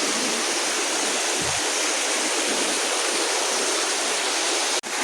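A waterfall after rainfall roars as a loud, steady broadband rush of falling water, close and continuous, with a brief low thump partway and a sharp click near the end.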